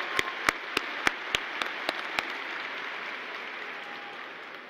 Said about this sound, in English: please give another round of applause for our wonderful choir and that fantastic performance